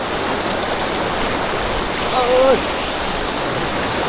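The Than Thip waterfall stream in Prachinburi, Thailand, makes a loud, steady rush of flowing water throughout, with a brief voice heard faintly over it partway through.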